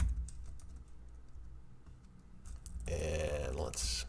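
Fingers type on a computer keyboard in quick bursts of key clicks, close and fairly quiet, with a denser flurry of typing near the end.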